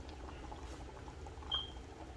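A pot of pasta fagioli simmers on medium heat, giving a faint, soft bubbling and gentle liquid burble close by, with one brief higher tick near the end.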